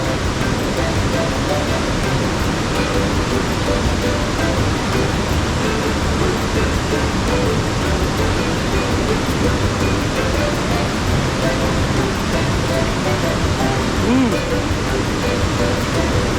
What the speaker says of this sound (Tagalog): Ngayon, lakas ng buhos ng ulan, o delikado.